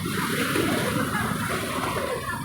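Surf at Digha Mohana rushes in a steady, close wash of breaking water, unbroken for the short stretch.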